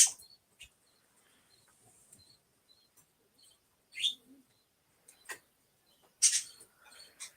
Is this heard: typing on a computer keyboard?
no